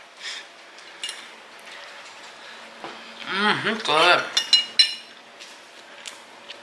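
Cutlery clinking against plates at a home breakfast-for-dinner meal, a few sharp metallic taps clustered in the middle, close and moderately loud, with a voice speaking briefly.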